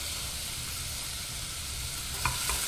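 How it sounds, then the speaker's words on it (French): Onion, garlic and ginger sautéing in sesame oil in a saucepan, a constant close hiss of frying with a couple of small clicks near the end. "Je vais y verser l'oignon et le faire revenir pendant 1 à 2 minutes."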